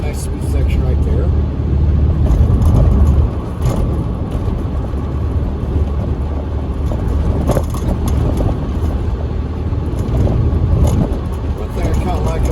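A 1972 Volkswagen Beetle drives along a road, its engine and road noise forming a loud, steady interior drone throughout, with a voice talking over it.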